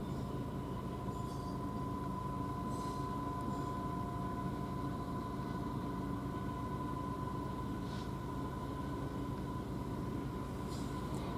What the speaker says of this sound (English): this one is the Doncaster Airport to Felixstowe South, passing out at 1340